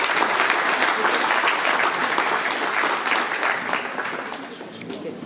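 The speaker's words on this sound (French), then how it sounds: "On l'applaudit aussi?" Sustained audience applause at an event, loud and dense clapping with some crowd murmur mixed in, tapering slightly toward the end.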